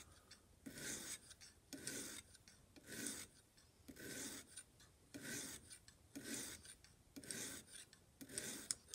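A cheap Walmart pocket knife is sharpened on a Lansky Deluxe system, giving about nine evenly paced rasping strokes, each a bright scraping sweep with short pauses between, close and fairly quiet with no talking.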